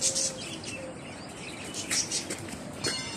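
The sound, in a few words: birds at Long Beach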